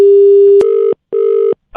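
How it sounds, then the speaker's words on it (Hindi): A telephone line gives a steady tone, then two evenly spaced electronic ring bursts with a pause between them, loud and close with no talk. "फोन कर दे।"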